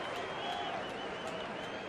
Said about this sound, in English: fans are already applauding